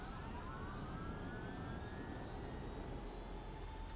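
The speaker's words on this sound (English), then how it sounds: "And our engines are all nicely running." Steady broadband roar of a de Havilland Dash 7-150's four running turboprop engines in the X-Plane 11 flight simulator, with faint rising whine tones over a constant drone, close and loud with no pauses.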